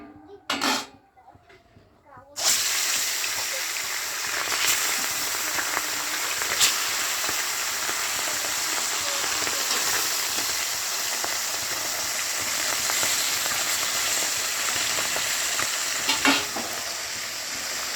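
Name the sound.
bhola fish frying in hot mustard oil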